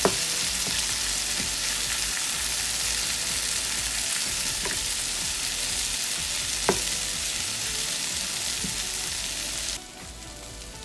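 Egg scrambling and frying in a pan for chicken fried rice gives a steady, loud sizzle with occasional spatula scrapes and taps, then drops quieter near the end.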